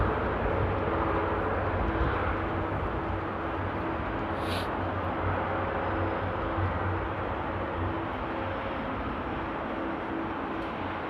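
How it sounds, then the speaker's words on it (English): A China Airlines Airbus A350 taxis for takeoff at rainy Amsterdam Airport, its engines giving a steady, loud, broadband roar with a faint whine that holds evenly throughout. "the beautiful China Airlines A350 is taxiing to take off as well"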